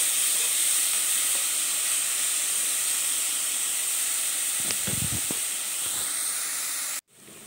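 Onion fries in a pan, a bright, steady hiss of sizzling heard close up, with a few soft low knocks of stirring near the end and no talking.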